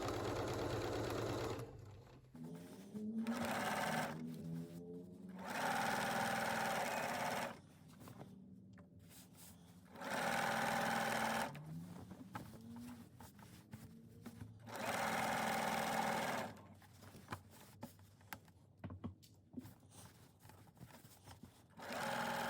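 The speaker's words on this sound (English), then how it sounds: "I started sewing my quilt from the middle out towards the rolled edge." Domestic sewing machine quilting a whole cloth cheater quilt sandwich from the middle outward, running in four loud, steady bursts of rapid stitching separated by quieter pauses while the fabric is smoothed.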